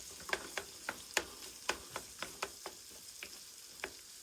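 Salted egg yolk being stirred and fried in a pan for pasta, heard as a steady quiet sizzle with a dozen sharp spatula clicks against the pan at an irregular rhythm.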